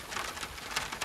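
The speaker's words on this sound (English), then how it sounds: "it's raining pretty good" Steady rain falling outside at a post-and-beam barn build site, a dense patter of drops that carries on without pause, with a faint bird call mixed in.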